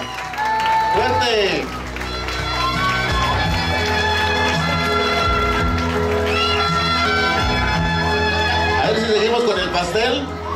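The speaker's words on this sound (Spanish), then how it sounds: "Fuerte, fuerte el aplauso para la quinceañera, señoras y señores, Zulma" Crowd applause and cheering for a quinceañera at her party, loud and sustained under steady dance music.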